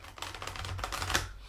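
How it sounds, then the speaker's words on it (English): Tarot cards being shuffled by hand, a soft rapid riffling patter of card edges that runs steadily throughout, close and quiet, with no voices. "it's easy to shuffle, so I can just listen to the cards"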